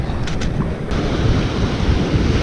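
Waves washing onto Alkimos Beach at night, a steady rumbling surf roar mixed with wind buffeting the microphone, no voices.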